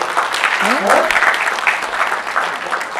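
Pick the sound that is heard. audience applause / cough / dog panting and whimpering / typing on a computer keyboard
audience applause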